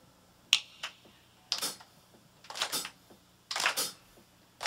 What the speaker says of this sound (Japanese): 手拍子を、